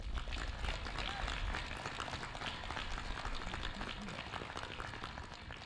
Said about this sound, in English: Please join me in a round of applause honoring the members of the Methacton School Board.